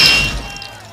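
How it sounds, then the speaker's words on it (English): Golden calf statue shattering as a sound effect, a loud sharp crash of breaking glass-like material that quickly fades into scattered debris. "Moses smashed the golden calf and beat it into powder."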